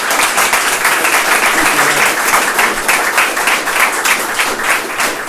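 An audience gives a loud, continuous round of applause for two presenters, dense clapping that holds steady throughout without speech.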